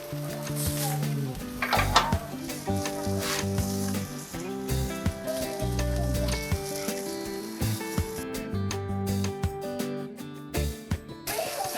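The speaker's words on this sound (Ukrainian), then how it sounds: "коли смажите на рішиці, просто час від часу беріть і трішки ось таким чином привідкривайте рішіточку під час смаження" Norwegian trout steaks in a fruit-soy marinade sizzle on a grill grate over charcoal. The frying hiss is steady and close, with metallic clinks and scrapes of the grate over about twelve seconds.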